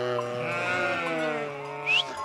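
Sheep bleat at a mountain farm in a long, wavering, up-close call, followed by a brief higher bleat near the end, with no talking.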